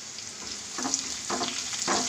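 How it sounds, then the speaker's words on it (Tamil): Crushed garlic hits hot oil with crackling mustard seeds and cumin for a keerai sambar, a close steady sizzle broken by a few soft stirring scrapes at regular intervals, no voices. "நம்ம இடித்து வச்ச பூண்டு இதையுமே போட்டுட்டு நல்லா மிக்ஸ் பண்ணிக்கோங்க."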